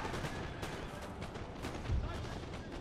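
Cannon fire booms in the Napoleon Total War strategy game during a Napoleonic-era battle. Dull, distant blasts rise out of a constant rumble of combat noise, and a voice talks over them.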